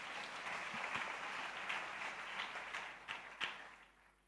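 Church congregation at a Sunday service applauding to welcome a pastor, a steady wash of many hands clapping at a distance that swells, peaks, then fades away.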